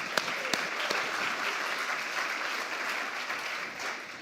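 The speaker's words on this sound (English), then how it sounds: "You can give yourselves a round of applause for that." A congregation breaks into a round of applause, heard as a full, steady wash of many hands clapping at moderate loudness, with a few sharp nearby claps standing out at the start.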